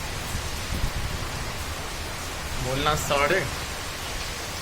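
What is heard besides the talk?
heavy rain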